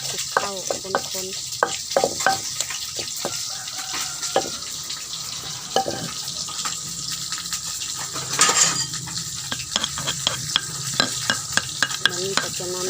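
A utensil stirring and mixing ingredients in a sizzling pan, repeated scraping strokes and clinks over a continuous frying hiss, close and loud with no talking.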